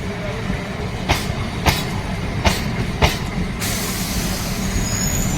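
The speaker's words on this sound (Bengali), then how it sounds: "আর তার চক্ররেল চলে যায়" A Kolkata circular railway train passes near Bagbazar ghat, a loud, continuous rumble with regular clacking of wheels over rail joints about every half second, steady throughout.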